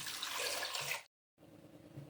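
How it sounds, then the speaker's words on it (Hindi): Water pours from a glass into a pressure cooker in a home kitchen: a close splashing gush for about a second, a brief silence, then a quieter second pour. "2 गिलास पानी डाल देंगे।"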